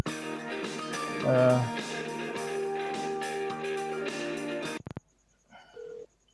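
A phone line rings with a steady tonal ring for several seconds, then cuts off abruptly, leaving near silence and a brief faint tone.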